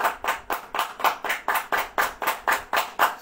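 Audience at a community assembly clapping in unison to welcome guests, about a dozen loud, evenly spaced rhythmic claps.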